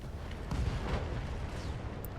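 Weapons fire on a target in the RogueTech mech game, a faint, low rumbling barrage of distant booms rolling together over a couple of seconds.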